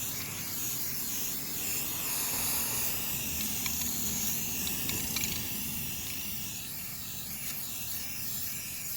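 Spray paint hissing from a can onto a chair outdoors, a faint steady airy hiss with small clicks, continuous and alone.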